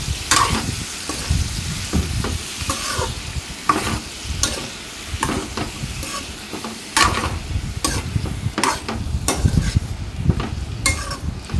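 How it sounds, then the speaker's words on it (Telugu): Eggplant pieces frying in oil are stirred with a ladle, producing repeated, close scraping strokes against the pan over a constant sizzle, in an irregular rhythm with no speech. "ఇప్పుడు ఈ మొత్తం కూడా బాగా కలిసే విధంగా గరిటెతో కలుపుకోవాలండి"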